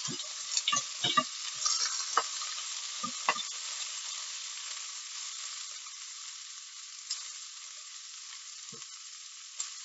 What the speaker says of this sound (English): My pan is already hot, I've had that preheating, and I'm going to add the steak.